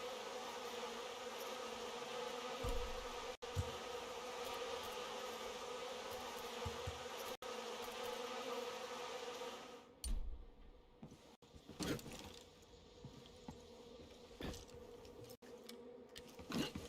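A swarm of bees in the video game Far Cry 5, a steady, droning buzz holding for about ten seconds before thinning into scattered clicks and faint movement.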